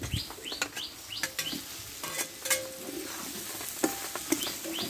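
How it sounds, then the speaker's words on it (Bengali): Bitter gourd goes into spiced masala and frying oil, with a soft sizzle under frequent clinking, stirring scrapes and taps, close by; faint bird chirps sound in the background. "এবার কষে রাখা উচ্ছেটা আমি দিয়ে দেবো তেলটা ছেড়ে দিচ্ছে"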